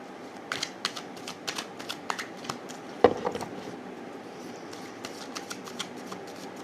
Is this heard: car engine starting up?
no